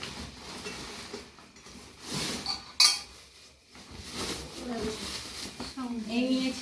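A newly bought kadai and other cookware are handled, with metal clinks and one bright clang among softer knocks, while someone talks over the rattling.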